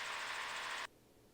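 A steady, loud gyrocopter engine whirr, from an AutoGyro Cavalon 915iS in flight, holds for nearly a second, then cuts off abruptly, leaving only a low background hum.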